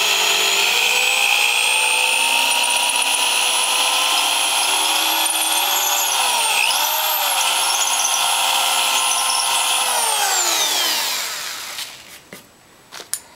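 A power drill whines steadily at high speed, loud and close, its pitch dipping briefly under load before it winds down and stops, followed by a few small knocks.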